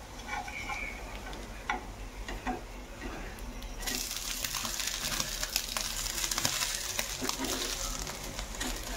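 A dosa being flipped and cooking on a hot pan, heard as a soft steady sizzle with scattered light ticks and scrapes, growing brighter and louder partway through.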